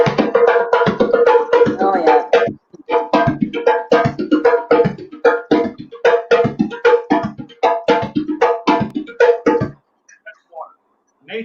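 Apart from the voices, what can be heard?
hand drum playing water rhythm at real time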